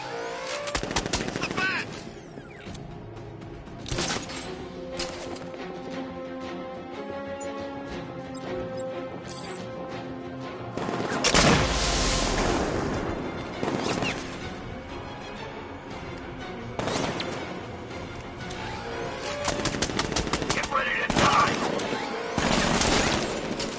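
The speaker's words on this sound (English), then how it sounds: "They're equipped with firearms and sentry gun placements." Soldiers and sentry guns fire in Batman: Arkham Knight, with repeated bursts and crashing impacts running continuously under game music and voices.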